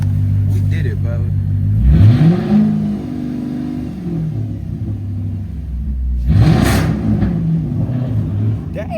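A 5.7 Hemi engine with a freshly fixed oil pressure problem revs twice, each burst rising sharply from a steady idle and falling away, loud and close, while voices talk over it.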